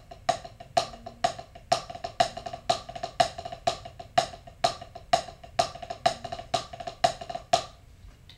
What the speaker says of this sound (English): We're going to shift the diddle to the second note.